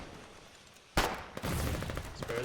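Gunfire in the online war game Foxhole on a frontline: a sudden loud shot, then a dense rattling burst of rapid fire that carries on to the end, close and with no voices over it.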